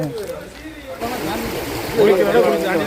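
A forest stream flows during a friends' day trip, its steady watery rush running under people talking nearby and growing a little louder toward the end.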